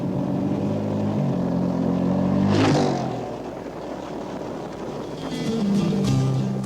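An enduro motorcycle on a wooded course, its engine note rising and falling as it passes close and loud, with a brief whoosh midway and another surge near the end.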